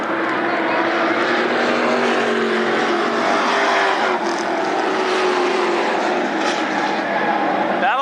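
Late model stock cars race at Berlin Raceway in 1999, a loud continuous roar of several engines at full throttle passing close by, with a commentator's voice faint underneath.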